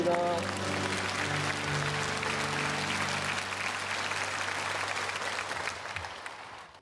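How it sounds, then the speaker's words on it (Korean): Applause fills a Korean church worship service, a congregation clapping steadily over fading organ chords before the clapping thins out at the end. "영광의 박수 올려드립니다."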